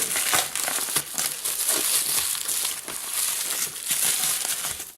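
Packaging material crinkles and crunches up close while a package holding a Dino Skewb puzzle is unboxed, in continuous loud handling bursts with short pauses and no speech.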